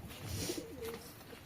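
Domestic flying pigeons kept as a hobby coo softly at close range, a low murmuring call rising and falling for a moment with faint room noise around it.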